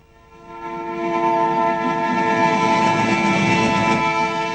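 A train pulls in with a steady rising rumble and sustained horn-like tones, loud and continuous throughout, with no talking.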